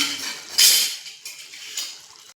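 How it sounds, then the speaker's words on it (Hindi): Besan gatta stirred in a cooking pan: a spoon scrapes and clinks against the metal, with a sharp loud scrape and then softer swishing strokes at close range and no talking. "अब मैं डाल लेती हूँ बेसन के गट्टा और अच्छा से मिक्स कर लेती हूँ"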